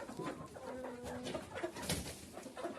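Soft clucking and low murmuring calls from a few chickens, close by and fairly quiet, with a steady faint background noise throughout.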